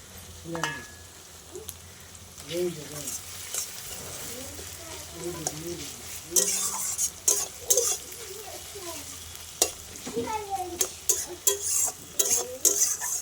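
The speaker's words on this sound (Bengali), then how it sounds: "কিছুক্ষণ একটু পেঁয়াজটা ভেজে নেব" Onions fry in a pan with bay leaves and whole garam masala, a steady sizzle under repeated scraping and clattering of a spoon or spatula against metal, with faint voices murmuring in the background.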